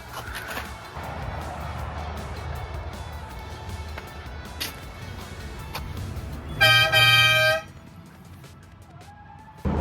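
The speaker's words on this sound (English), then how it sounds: "If you want a cheap, easy air horn off the shelf" A loud, brassy blast from a cheap twin air horn on a 105 Series Landcruiser sounds once near the end, about a second long, after several seconds of low engine idling and faint background noise.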